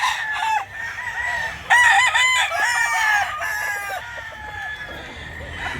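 Several roosters crow close by, their calls overlapping, with hens clucking in between; no talking.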